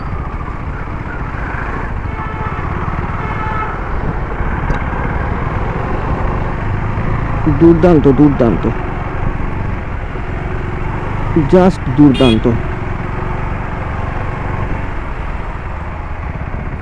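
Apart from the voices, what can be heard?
KTM Adventure 390 motorcycle riding in traffic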